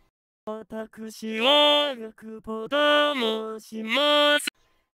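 A Vocaloid 5 synthesized singing voice repeats short syllables in three phrases, each ending on a held note with darkened, closed vowel tones, no other sounds.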